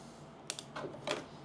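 Fabric scissors cut fabric for a sewing project bag, making three or four quick, crisp snips that sound quiet and close.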